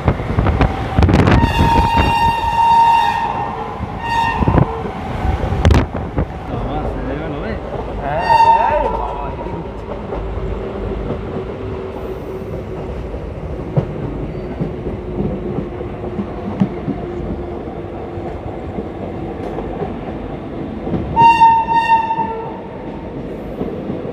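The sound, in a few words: train passing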